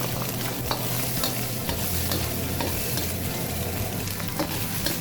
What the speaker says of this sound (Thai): ผัดกุ้งให้สุกนะครับผมจากนั้นใส่ผักลงไปครับ